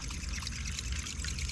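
Water sloshing and trickling steadily as a popper lure is worked across the surface of Lake Maumelle while bass fishing in summer, a continuous close splashing wash with no talk.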